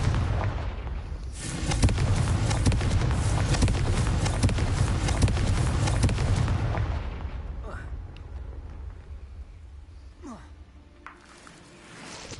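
A Confringo fire spell explodes in a Harry Potter video game, a loud, sustained roaring blast that fades into lower rumbling, with a few smaller bursts after it.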